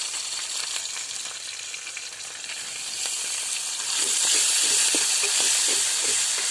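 Chicken liver stir-fries in a pan with ginger, garlic and cumin paste, giving a steady, close sizzling hiss that swells louder and busier toward the end, with faint stirring crackles and no voices.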